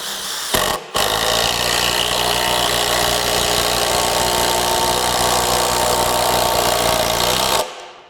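Kobalt 24V brushless cordless tool, run on a larger battery, sinks lag screws in one long continuous loud whirring drive of about seven seconds, with a brief pause near the start before it winds up again.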